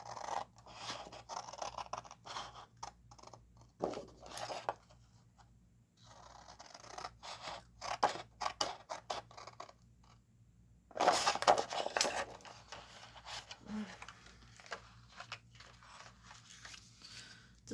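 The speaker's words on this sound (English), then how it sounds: "we're still going to cut out our niche here" A niche is cut into a junk journal page by hand, with close, irregular scratchy cutting and scraping strokes, some in quick runs and some after brief pauses.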